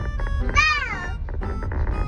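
A single cat meow rises and then falls in pitch, loud and close, with murmuring voices just before and after it.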